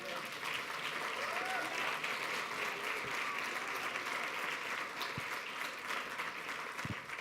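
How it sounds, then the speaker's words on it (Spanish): Sustained applause from a church congregation fills the room, steady and fairly loud for several seconds, with a few low thumps near the end. "Yo creo que Él se merece un aplauso."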